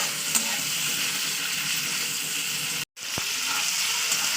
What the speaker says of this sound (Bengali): তো দেখতেই পাচ্ছেন আমি তেলে ভালো করে এটা কষিয়ে নিয়েছি।